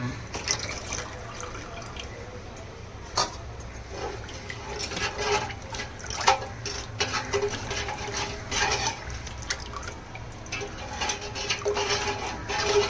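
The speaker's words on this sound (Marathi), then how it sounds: "हे जे पाणी काढलं होतं ना आपण डाळीचं ते ओतूया" Dal cooking water splashes and pours into a pot of katachi amti with a steady watery rush, broken by drips and clinks, fairly close.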